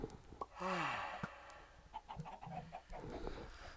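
Chickens cluck in the Minecraft video game: a few short, fairly quiet clucks and squawks spread over a few seconds with low background noise.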